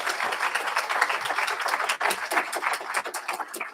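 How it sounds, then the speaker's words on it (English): Clapping from the audience at a prisoner-reentry graduation ceremony, loud and dense with crisp individual claps, sustained throughout with a brief dip midway. "I'm gonna pause right there so you can give a clap."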